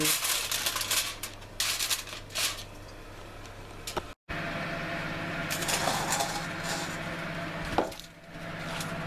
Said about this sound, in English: That says to cover it in tin foil, so that's what I'm doing.